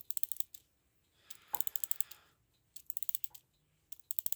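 A Metamec mechanical clock movement is wound by hand, giving fast, quiet ratcheting clicks in several short bursts with brief pauses between them. The sound is close, with no talking.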